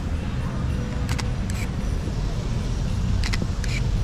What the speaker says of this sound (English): while in mechanical shutter, the shutter noise isn't actually soft on this camera